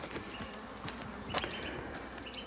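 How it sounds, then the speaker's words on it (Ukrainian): Honey bees buzz steadily nearby on an early spring cleansing flight, a soft continuous drone with individual insects flying past and occasional brief louder passes. "От і бджолки вже трошки активувалися, почали літати"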